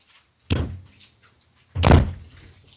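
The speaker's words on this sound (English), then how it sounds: "I was smashing my door closed." A door slammed shut hard twice indoors, a sharp thud around half a second in and a heavier, louder bang just under two seconds in, with quiet gaps between.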